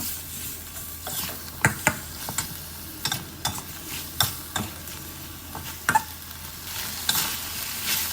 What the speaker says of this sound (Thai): คราวนี้ก็ผัดจนมะระสุกนะครับ